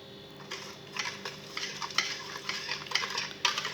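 A utensil stirs cake batter with vanilla essence in a bowl, making repeated close scraping and swishing strokes in an irregular rhythm, with no voices.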